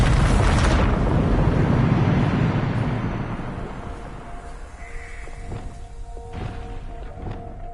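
A Bombarda spell explosion in Hogwarts Legacy bursts loudly at the start with a deep rumbling boom that slowly fades over several seconds, followed by quieter magical chimes and soft thuds.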